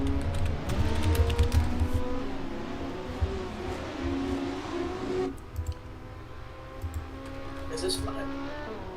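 Race cars roar along a Road America circuit in a racing video game, engines droning steadily with shifting pitch under continuous commentary, then falling quieter partway through.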